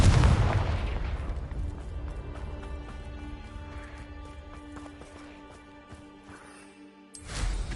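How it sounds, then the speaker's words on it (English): A Confringo blasting spell from Hogwarts Legacy explodes with a loud boom, its rumble decaying over several seconds with clattering debris before a second blast swells at the end. "Confringo!"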